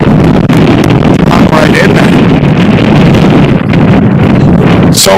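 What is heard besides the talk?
gusting wind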